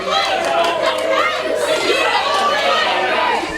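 Wrestling crowd at a live indoor Ring Wars event cheering for Brandon Locke, a steady, loud roar of chatter and shouts that holds throughout with no clear peaks.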